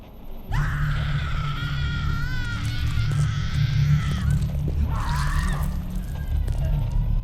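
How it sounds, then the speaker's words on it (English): A stock scream sound effect in the horror game Follia - Dear Father: a long, loud, wavering shriek followed by a second shorter cry over a dense low rumble of game ambience. "That must be like a stock scream sound effect."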